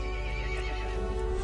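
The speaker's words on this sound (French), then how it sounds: "Le cheval se mit en colère et appela les autres monstres." A horse neighs loudly in a cutscene from the video game Resident Evil Village, a single sustained whinny close up over a low rumbling background.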